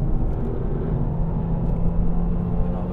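A Renault Mégane R.S. Trophy is driven on the Nordschleife, giving a steady, low engine drone with road rumble. The sound stays even and sustained throughout.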